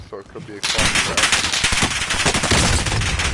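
Rapid automatic gunfire from a video game battle royale match erupts suddenly and loud, continuing in dense bursts while a player swears over it.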